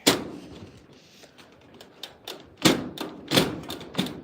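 A door in a new barn being pulled closed, a run of uneven wooden thumps and knocks that grow louder and closer toward the end, with no talking.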